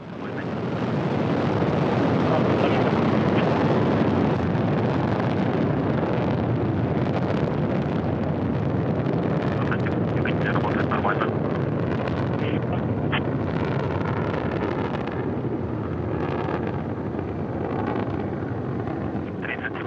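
A Soyuz rocket with four boosters and a single engine lifting off for the International Space Station, producing a continuous broad, crackling roar that stays loud for the whole stretch, with someone talking over it.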